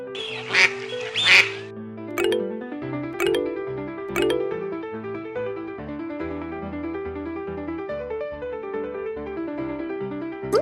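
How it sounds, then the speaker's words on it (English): A cartoon duck quacks in a children's animal-learning game, two loud bursts near the start over a bright melodic musical backing that continues to the end. "Amazing. Duck."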